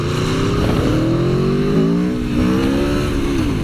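Aprilia Tuono V4 1100 motorcycle accelerating smoothly in first gear, its engine note loud and close and climbing in pitch through a continuous pull, with no voices.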